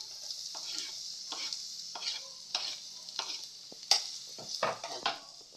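Onions sizzling in a pan for lumpia shanghai while a spatula scrapes and stirs in repeated bursts, with light metallic clinks over a soft frying hiss; close and fairly quiet, no talking.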